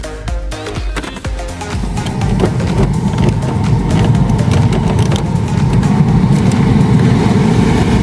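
A new HVAC blower motor runs inside a 2012-2020 Chevy Sonic. After a few soft knocks, it settles into a loud, steady whooshing hum that holds evenly to the end.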